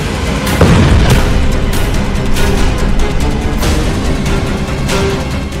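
A car is blown apart by an explosion in Moscow, with a loud, continuous roar of heavy booming blasts and crackling bursts throughout, and no voices.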